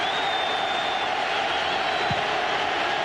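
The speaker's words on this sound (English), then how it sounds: "Crowd comes to their feet," A college football stadium crowd at the 2000 Tennessee vs Georgia game rises to its feet on third down, its loud, dense roar filling the space continuously with no letup.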